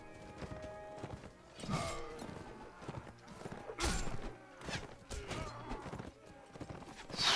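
Hooves pound in Mount & Blade: Warband as mounted horsemen gallop into a battle, a busy rhythmic clatter with neighs and clashing noise layered over it, fairly loud and close throughout.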